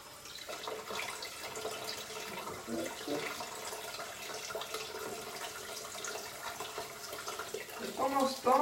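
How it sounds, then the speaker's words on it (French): Water runs from a tap into a small container while it is left to warm up, a faint, steady splashing hiss that swells slightly toward the end. "je fais couler l'eau jusqu'à ce qu'elle soit chaude"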